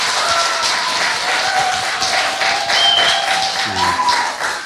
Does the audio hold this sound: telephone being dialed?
no